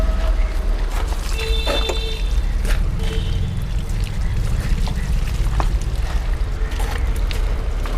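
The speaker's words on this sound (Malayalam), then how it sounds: "കുറച്ച് വെള്ളം ഒഴിച്ചാൽ" Water poured onto a polished marble slab in a stone and granite showroom, a steady splashing pour with light trickling, heard close and continuous for several seconds with a low background rumble.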